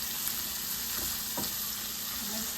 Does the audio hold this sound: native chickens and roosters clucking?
no